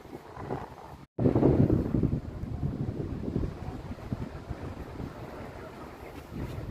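Strong wind buffets the microphone in loud, rumbling gusts at the OCBC Skyway, briefly cutting out before roaring on steadily.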